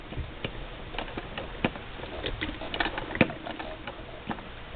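A hand-crank embroidery machine stitches through fabric and batting, making rapid irregular ticks and soft clicks that repeat steadily at close range.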